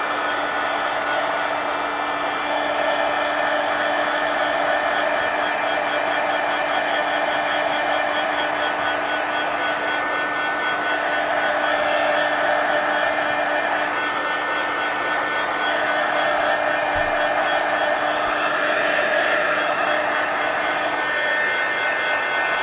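A hair dryer blowing on wet paint in a planner, giving a loud, continuous whooshing drone that holds steady throughout with slight swells in airflow and no talk.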